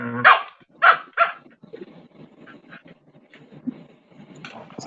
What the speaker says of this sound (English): That little dog sounds like it wants to whip something.